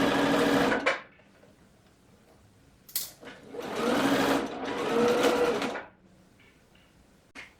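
A sewing machine stitches along the hem of a peasant top in loud, close bursts of fast whirring, stopping and starting several times with short pauses between runs.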